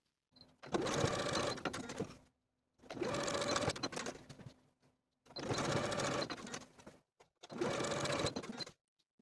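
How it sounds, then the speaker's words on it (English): A sewing machine stitches the side seams of a jumpsuit pocket flap with a 5/8 inch seam allowance, running in four steady bursts of about one to two seconds each with short quiet pauses between them, close and moderately loud. "we're going to sew each of those sides with a 5/8 inch seam allowance from the top of the flap to the bottom"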